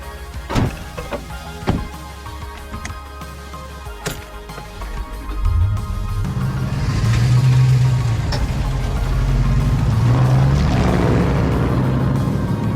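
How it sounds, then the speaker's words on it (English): Yamaha YZ dirt bike with a Lectron carburetor, a few sharp clicks and kicks at first, then the engine catches around six seconds and runs with a steady close drone, revving up and settling back. "the YZ fired up just after a couple kicks, and right away, the bike sounded crisper and healthier"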